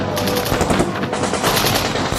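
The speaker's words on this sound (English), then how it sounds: "a ferocious firefight broke out" Sustained machine-gun fire in a ferocious firefight between Allied troops on high ground and approaching German soldiers in Normandy, with dense rapid bursts and overlapping shots continuing loudly throughout.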